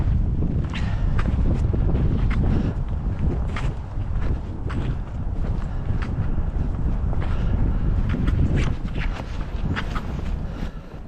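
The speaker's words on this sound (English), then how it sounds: "It's a little windy." Wind buffets a microphone on a snowy winter hike through trees toward a secluded cabin, a steady loud rushing roar with gusty swells and crunchy steps throughout.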